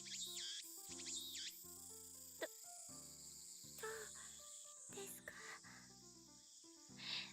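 Steady high-pitched cicada drone in a Steins;Gate visual novel scene, a continuous faint insect buzz running beneath soft piano-like music with tonal notes throughout.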